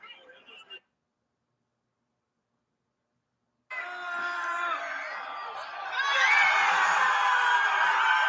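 A single person cheering and screaming loudly in encouragement, bursting in after a short stretch of near silence and growing louder toward the end, with a brief bit of voice before the gap.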